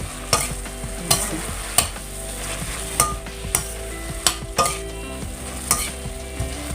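Vegetables stir-frying in a pan for egg fried rice, a constant close sizzle punctuated by regular sharp spatula knocks and scrapes about every half second to second.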